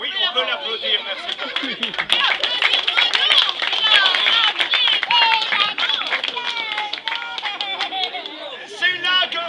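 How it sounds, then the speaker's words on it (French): An audience at a medieval knight tournament in Faverney applauds after a combat, scattered claps mixed with lively crowd chatter and laughter, close and fairly loud. "Oui, on peut l'applaudir, merci."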